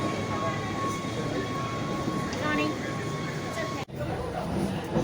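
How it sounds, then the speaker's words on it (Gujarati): Train rolling from Lauterbrunnen toward Wengen in Switzerland, a steady rumble of wheels and carriage noise throughout, with a faint background babble of voices and one brief dip near the end. "આપણે લાઉટરબ્રુનનથી વેંગેનની ટ્રેન પકડી છે."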